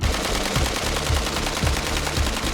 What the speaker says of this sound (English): See if this gun runs.